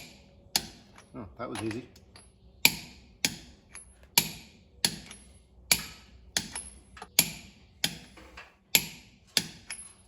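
A torque wrench tightens stainless steel wheel studs to about 75 foot-pounds on a D17 tractor front wheel hub, giving a close, sharp series of about a dozen evenly spaced metallic clicks, with a brief spoken remark near the start.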